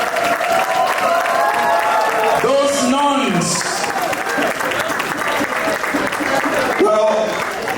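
An audience at a Catholic church centennial celebration applauding steadily, a dense, sustained clapping at moderate loudness, with a voice speaking over it.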